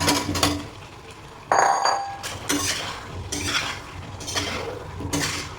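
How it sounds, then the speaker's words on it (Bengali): Cut potatoes stirred and sautéed in a kadai with cashew and tomato masala, heard as repeated metallic scrapes and clinks of a utensil against the pan in an irregular rhythm, close and fairly loud. "আলুটা দিয়ে খুব ভালো করে কষিয়ে নেব।"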